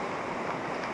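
Ocean waves wash ashore beside a roadside parking spot full of vans, a continuous rushing surf noise mixed with some wind buffeting, steady and fairly soft.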